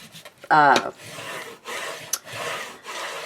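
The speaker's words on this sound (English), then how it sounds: "I'm going to burnish a little bit here" Glued paper is burnished onto a cardboard box, rubbing and scraping strokes in short bursts at close range, with a brief squeaky scrape near the start.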